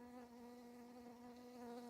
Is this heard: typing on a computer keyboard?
no